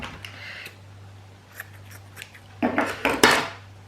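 Scissors snip through craft scraps for a snowman project, with a few light sparse cuts followed by a cluster of louder, crisp snips near the end, close by over a low steady hum.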